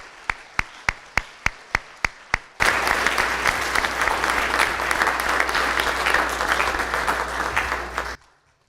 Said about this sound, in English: let's give one more round of applause to all the athletes and the coaches